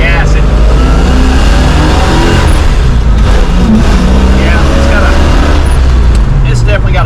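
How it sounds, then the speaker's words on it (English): A 1966 Mustang with a carburetor and a flat spot runs loudly up close, its engine roaring and dipping unevenly while someone talks over it. "as soon as I let off the throttle, it was trying to die"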